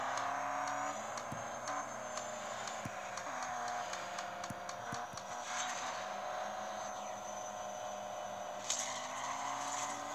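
A Koenigsegg race car's engine in Real Racing 3 drones steadily at high revs through the whole stretch, with faint ticking and clicking game sounds layered over it and no talk.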